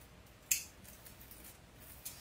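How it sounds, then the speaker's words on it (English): Scissors trim loose strings off a deco mesh welcome wreath, making two quick close snips about a second and a half apart against a quiet background. "trim off any strings you may see"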